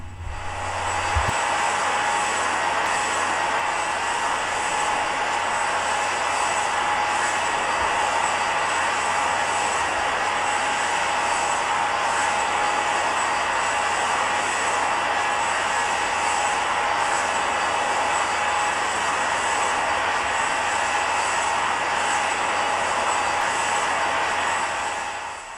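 Engines of an American Airlines Boeing 767 in a flight simulator game give a continuous, even jet roar with a steady high whine, unchanged for the whole stretch.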